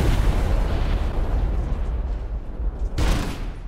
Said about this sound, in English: Let's use our quad cannon.